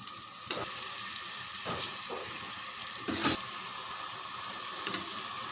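Drained rice sizzles and crackles in a hot pan, a continuous frying hiss broken by several sharp scraping stirs.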